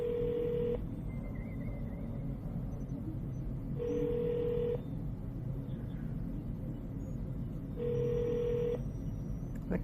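Three evenly spaced phone rings, each a short buzzing tone about a second long, heard through a line over a low rumbling background.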